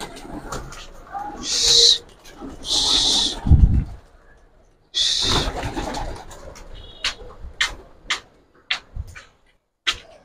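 Released pigeons at a Dhaka loft coo and call in short bursts, some loud and close, others quicker and fainter, separated by brief quiet gaps.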